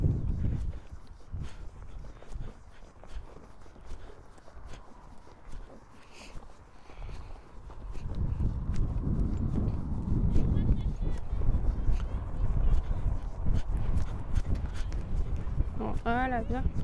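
A horse trots during riding training, with faint rhythmic hoof beats under steady wind noise and a rider talking, the hoof sounds low and soft, never standing out clearly.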